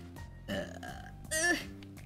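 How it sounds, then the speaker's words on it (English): A short burp rises out of background game music during a Final Fantasy XIV play session, one loud belch-like burst near the middle following a smaller sound earlier. "burp."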